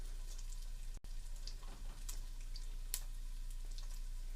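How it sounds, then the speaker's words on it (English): Bacon fries in a pan with a faint, continuous crackling sizzle and scattered sharper pops, quiet and fairly distant over a steady low electrical hum. "You could hear the sizzle anyway."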